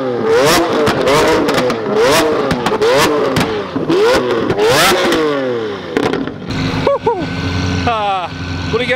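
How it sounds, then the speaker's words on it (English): A Lamborghini engine revs hard in rapid repeated bursts, loud and close, with crackling exhaust pops between throttle blips before settling to a rumbling idle. "a little Lambo fire"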